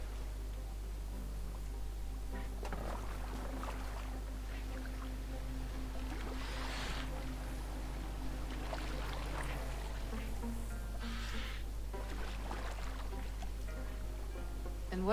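A boat glides over water in Assassin's Creed Valhalla, a low steady hum under gentle sloshing and intermittent splashes of oars or waves, with faint background tones.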